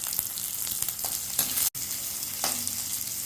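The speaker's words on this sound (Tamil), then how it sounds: "இப்போ அஞ்சாறு வெங்காயம் போட்டிருக்கேன் அதை நல்லா வதங்கணும்" Small sambar onions sautéing in a pan, a constant close hiss of frying with a few soft stirring strokes and one brief dropout partway through.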